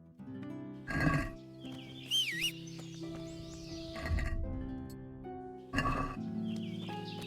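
A horse whinnying in a medieval video game, a brief shrill neigh over quiet music and ambient game sounds, with a few thumping impacts nearby.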